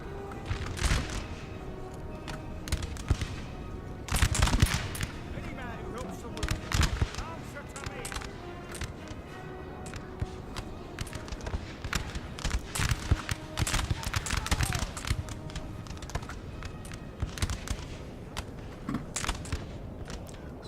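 Massed musket volleys crackle across a Napoleon: Total War multiplayer battle on Prussian hills, steady distant gunfire rattling throughout with scattered sharper shots, and a voice talking over it.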